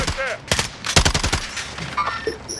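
Sniper and machine-gun fire in a squad-based online shooter crackle as rapid, loud bursts of shots in quick succession, followed by quieter scattered gunfire and game noise.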